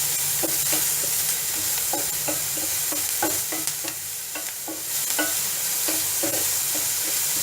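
Sliced onion with salt sautés in a hot pan for an ivy gourd stir fry: a constant loud sizzle with frequent rhythmic scraping and tapping of a spoon stirring throughout, close up and without talk.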